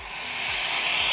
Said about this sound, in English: So I'm just gonna go ahead and add some boiling water.